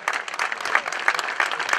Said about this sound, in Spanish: Aplaudimos nuestra insignia patria,